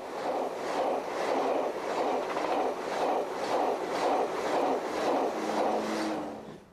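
A Eurostar train running on Belgian rails at modest speed, a steady loud rolling rumble with regular rhythmic clatter from the wheels, continuous throughout with no voices.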